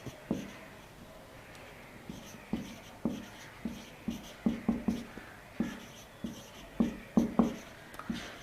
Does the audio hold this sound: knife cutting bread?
no